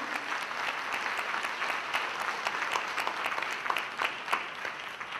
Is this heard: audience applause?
yes